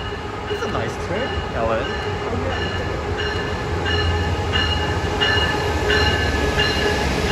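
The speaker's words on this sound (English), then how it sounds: "Nice train." A train passes at moderate distance near a Miami estate, a rolling rumble with periodic rhythmic clicks and faint squealing tones, steady throughout, with a voice briefly heard.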